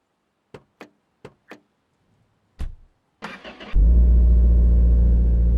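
A car engine in the game My Garage: several short dry clicks, then a brief churning crank, then a loud steady low drone that holds to the end.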